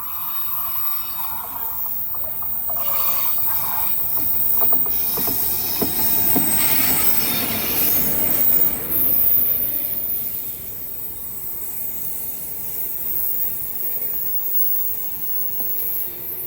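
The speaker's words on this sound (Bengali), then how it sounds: "এখন এই মুহূর্তে আসছে সেই কৃষ্ণনগর সিটি জংশন যে প্যাসেঞ্জার রয়েছে সেটি যাচ্ছে" A passenger train hauled by a WAP-4 electric locomotive rolls past close by with steady rail noise, squealing wheels and hiss, the roar fading gradually toward the end.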